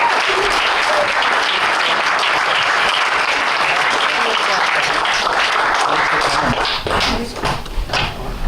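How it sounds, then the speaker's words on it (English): Audience at a book launch breaks into sustained, dense applause that fills the room steadily for several seconds, thinning slightly near the end as a voice begins to come through. "So we owe a tremendous round of applause to Ilya for making this event possible."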